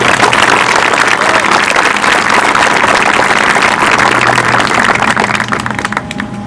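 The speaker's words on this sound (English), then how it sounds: "Round of applause, please." Steady, loud applause from a crowd at an 8th grade promotion ceremony runs unbroken for several seconds and eases slightly near the end, with a low hum underneath.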